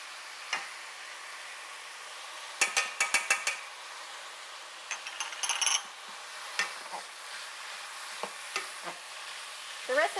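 Meat with finely diced onion and minced garlic browns in a skillet, a soft steady sizzle punctuated by quick bursts of metal utensil clicks and scraping against the pan.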